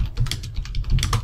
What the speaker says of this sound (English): So I'm going to type this in